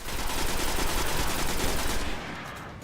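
Rapid automatic gunfire from the video game Destiny rattles out in a dense, continuous burst for about two seconds before cutting off abruptly.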